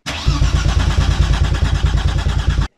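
A BMW V8 engine cranks over without fuel, the starter spinning it in a fast even rhythm of loud exhaust puffs that run for over two seconds and then stop abruptly.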